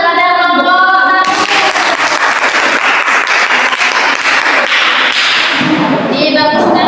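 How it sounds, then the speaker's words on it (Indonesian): Classroom applause for a student group in a teaching session: a dense burst of clapping from many hands fills most of the clip, steady and loud, with a faint voice at the very start and end. "Coba tepuk tangan kepada kelompok satu."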